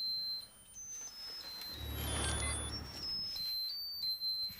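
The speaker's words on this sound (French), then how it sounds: "Ce bip bip infernal!" An electronic alarm chirps repeatedly during a live stream, short high beeps stepping in pitch over a low rumbling hum that swells in the middle, with no voices over it.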